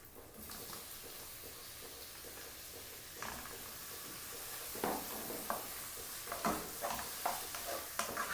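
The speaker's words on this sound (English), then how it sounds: "at this stage I'm going to add this prawns" Prawns dropped into fried onions in a pan for prawn polichathu, a steady soft sizzle with occasional stirring scrapes and small bursts, close but quiet, no talking.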